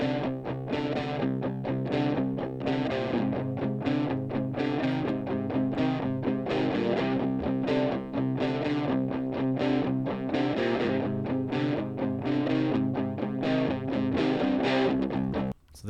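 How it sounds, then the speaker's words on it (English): A PRS electric guitar played through a crunchy, naturally overdriven Laney amp, dense strummed chords ringing steadily for the full length before cutting off abruptly at the end. "full guitars with my expensive PRS guitar and my Laney amp"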